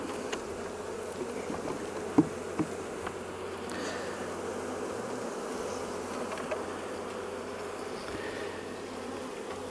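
Honey bees buzzing steadily at an apiary around open hives, a dense continuous drone close by with occasional individual bees passing and a few light clicks of frames.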